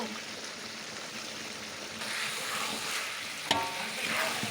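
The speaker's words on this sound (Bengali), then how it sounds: "এবার ভেজে রাখা ফুলকপিগুলোকে দিয়ে দিব দিয়ে ভালো করে কষিয়ে নেব" Fried cauliflower pieces tossed with potatoes in a hot pan, giving a continuous sizzle and frying crackle with stirring scrapes and a brief clatter near the end.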